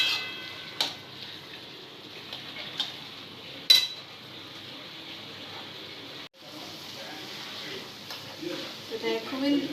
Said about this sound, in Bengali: এবারে এটা ভালো করে কষে নেব, তারপর একটু জল দিয়ে দেব।